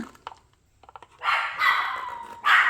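Dogs bark indoors at a home workspace, a few rough, loud bursts running together near the end after a quiet stretch with small clicks and handling noises.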